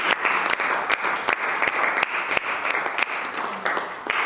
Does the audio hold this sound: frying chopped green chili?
no